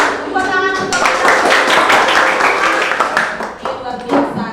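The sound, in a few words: children clapping hands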